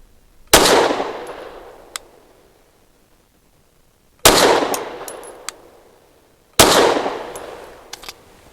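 Three loud, sharp pistol shots ring out from a Canik METE MC9 Prime firing Fiocchi 100 grain frangible ammo, spaced a few seconds apart, each with a short echoing decay and faint metallic clinks of brass after.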